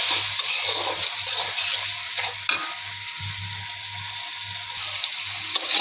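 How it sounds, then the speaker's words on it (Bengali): Spice paste of turmeric, chilli, salt and coriander with onion sautéed and stirred in a pan, a close sizzle with repeated scraping strokes and occasional clinks of the utensil against the pan. "মশলাটা কষিয়ে নেব।"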